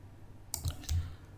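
Two quick, crisp computer mouse clicks, close and isolated against a quiet background.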